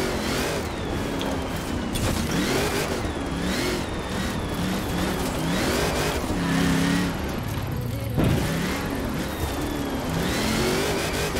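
A Willys with a 7-litre V8 in the racing game Forza Horizon 4 revs in rising and falling engine surges under light throttle, rumbling steadily close by with bursts of whine and a short knock near the end.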